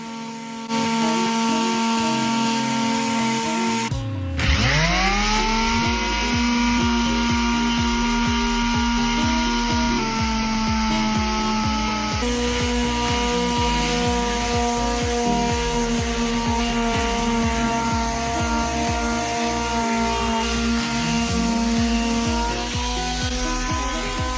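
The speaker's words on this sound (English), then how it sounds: "we just need to sand all those down and sand all the blemishes out" A power sander runs steadily on wood boards, smoothing out blemishes and wormholes at 140 grit, its motor a continuous close whine with a rough scratchy rasp that shifts slightly as the pad moves across the surface.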